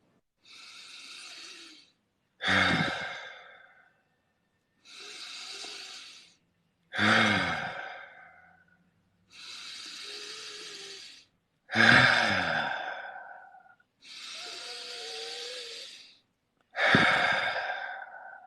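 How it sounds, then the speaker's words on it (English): Eight deep breaths during a guided breathing exercise, alternating soft inhales with louder, forceful exhales blown out harder, steady and close with pauses between, and no talking. "Take 5 deep breaths, controlled in and out. Each breath, I want you to blow out harder."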